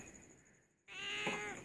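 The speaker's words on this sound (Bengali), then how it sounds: "কাকা ডাকছে, কাকা কাকা ডাকছে" A crow caws once, loud and harsh, near the end after a faint quiet background, with no talking.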